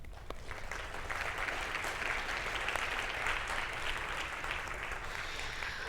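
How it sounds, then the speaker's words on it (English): Applause from the audience at a FIFA women's football symposium session, a steady, dense wash of clapping that holds at an even level for the whole stretch with no talk over it. "Another round of applause."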